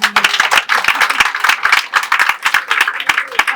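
An audience at an epilepsy association gathering in Sierra Leone claps steadily, a dense run of close, crisp hand claps with uneven rhythm lasting several seconds, with no talk over it.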